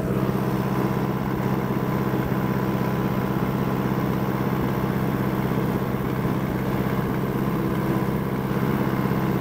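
An Allis-Chalmers D14 tractor engine drones steadily and loudly while mowing grass and brush, a constant close mechanical rumble with no pauses.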